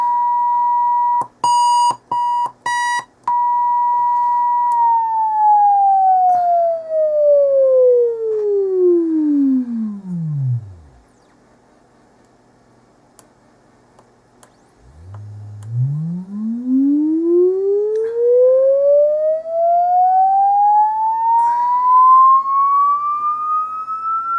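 A loud electronic tone from a Maplin function generator kit holds steady after a few beeps, then sweeps down to silence and climbs back up in pitch.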